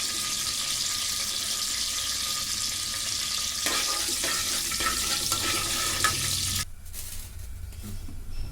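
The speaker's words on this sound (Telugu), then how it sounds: "ఇలా బ్రౌన్ రంగు వచ్చేదాకా వేపండి" Chana dal frying in a pan gives a loud, continuous close-up sizzle with scraping and stirring, which drops sharply near the end to a quieter crackle.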